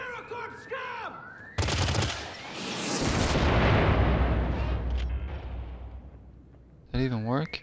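Gunfire in the video game Syndicate, a loud sudden burst of shooting followed by a long roaring blast that swells and fades, with warbling electronic tones before and after.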